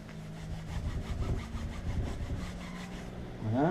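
Cleaning a repair patch for an inflatable Zodiac boat gives a close, rhythmic rubbing and scrubbing of cloth on fabric in repeated strokes, ending with a brief louder scrape.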